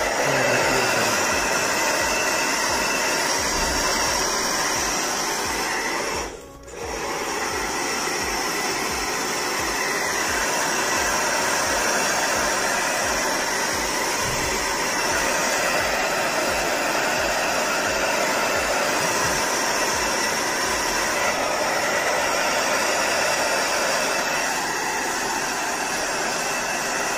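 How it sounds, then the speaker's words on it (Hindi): A hair dryer roars in a loud, steady, continuous blast while hair is styled, with a brief dip about a quarter of the way through before the airflow resumes at full strength. "साइड से आपको बाल रखने हैं उसी स्टाइल में आपको हेयर ड्रायर यूज करना है।"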